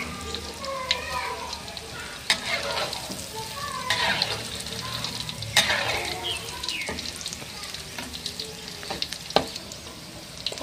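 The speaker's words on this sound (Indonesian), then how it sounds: "Kita goreng sampai berwarna kecoklatan." Tofu and tempeh fry in hot oil, a dense continuous sizzle and crackle with occasional sharper pops and stirring clinks, close and steady throughout.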